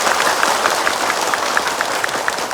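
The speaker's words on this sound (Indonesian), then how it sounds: "Boleh tepuk tangan Ibu" An Indonesian Ramadan TV studio audience of women claps steadily, a continuous mid-level patter without letup.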